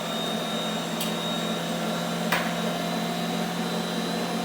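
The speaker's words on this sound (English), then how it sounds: "Now we're gonna turn it on, let it mix up." A Bosch kitchen machine with a bread mixer attachment kneading bread dough for pretzels, a steady, even motor drone with a constant hum and no talking.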